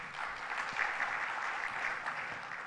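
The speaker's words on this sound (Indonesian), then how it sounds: "Tepuk tangan Pak Sintel nih ya" Audience applause for Pak Sintel at a business review event, a steady wash of clapping held at an even level throughout, moderately loud with no speech over it.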